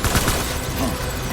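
Gunfire in Death Stranding, a dense rapid fusillade of overlapping shots at close range, loud and continuous through the brief moment, with a voice partly underneath.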